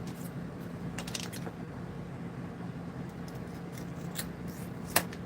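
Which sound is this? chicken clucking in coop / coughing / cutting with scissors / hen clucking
cutting with scissors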